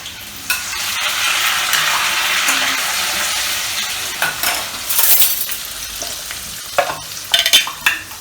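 Onion, tomato and curry leaves frying together in plenty of oil in a pan, a bright hissing sizzle throughout with scraping stirs and intermittent spatula clinks against the pan.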